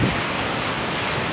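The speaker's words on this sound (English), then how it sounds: "it might be a little windy" Wind gusts across the shore at Santa Cruz, a loud, steady rush of blowing air buffeting the microphone with the broad roar of surf beneath it, no voices.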